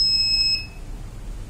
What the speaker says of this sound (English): a continuous beeping of a buzzer and LED will be given as indication to the students